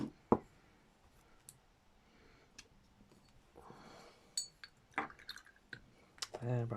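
Paint is washed out in water, giving quiet, sporadic clinks, drips and small splashes with gaps of near silence between them.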